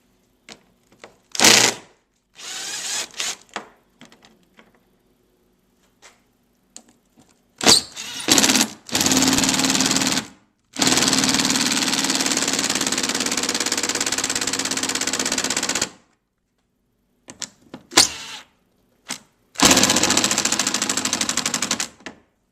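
A cordless power driver spins out T30 Torx screws from a plastic front cover on a BMW N52-series engine, whirring in repeated bursts of one to five seconds separated by silences.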